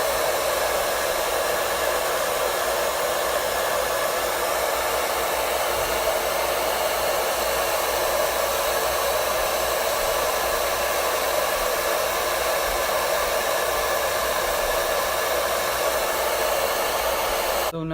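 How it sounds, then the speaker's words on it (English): A hair dryer blows steadily and loudly for the whole stretch while hair is dried with a brush. The roar is even and unbroken and no one speaks. "grab your brush and your blow dryer and just do the same technique"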